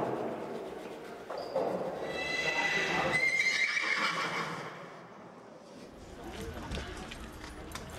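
Horses neighing and whinnying amid a busy early-morning crowd at the Chiemgau hall in Traunstein, while they are groomed and decorated for the Georgiritt procession; hoof clops and steady crowd talk fill the background.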